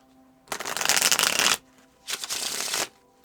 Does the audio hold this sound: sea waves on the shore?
no